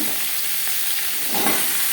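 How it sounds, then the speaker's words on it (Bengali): Papaya pieces fry in hot mustard oil with dry chillies, panch phoron, cumin and bay leaf, a soft steady sizzle with a brief stirring swell near the end, fairly quiet and without talk. "4-5 মিনিট পেঁপে ভেজে নেব।"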